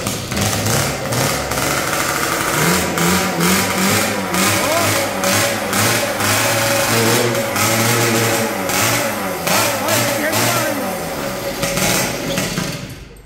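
A homemade, freshly rebuilt moped engine, with a carburetor that may need adjusting, revs hard and continuously at close range. Its pitch rises and falls in waves throughout, with no talk over it.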